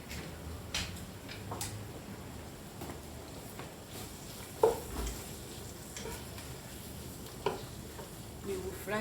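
Food frying in a little olive oil, a low steady sizzle with occasional light ticks and stirring clicks, faint and close, with someone speaking briefly now and then.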